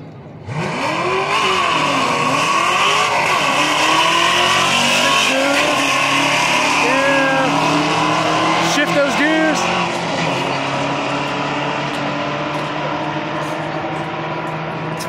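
A Fox body Ford Mustang and a new-generation Chevrolet Camaro launch in a quarter-mile drag race, engines roaring loud and close with rising revs, gear changes and brief tire squeal, while voices talk underneath.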